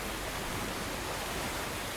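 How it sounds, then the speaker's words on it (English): A waterfall from the film A Quiet Place roars as a constant, loud broadband rush with no breaks or other sounds, alone throughout. "And if they want to make big noises, well, waterfall!"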